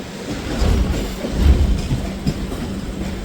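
The Howrah–Jagdalpur Samaleswari Express rolls past close by, a loud, steady rumble with rhythmic clickety-clack of wheels over rail joints and no voices.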